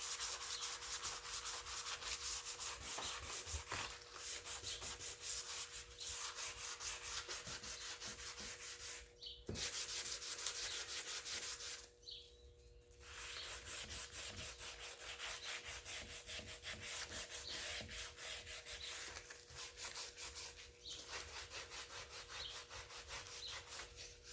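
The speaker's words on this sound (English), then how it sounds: "So now I'm just going to finish sanding the rest of it." Steady rhythmic hand sanding on an oak kitchen cabinet, a continuous scratchy rasp with short pauses, fairly quiet and close, with faint birdsong in the background.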